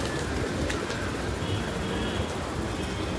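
Pigeons coo softly at a pigeon-feeding spot outside Shree Mahalaxmi Temple in Mumbai, within a dense, constant wash of outdoor crowd and traffic noise.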